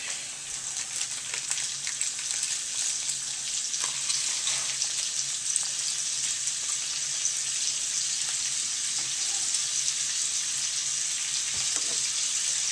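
Butter melting in a hot pan on the stove, a steady bright sizzle and gentle crackle that holds at an even level throughout, close up, with no voices.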